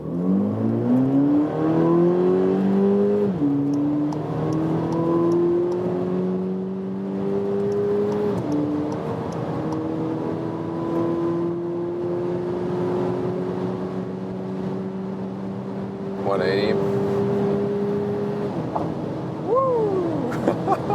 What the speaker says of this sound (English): Rolling start, 40 kilometers an hour, German Autobahn, let's go.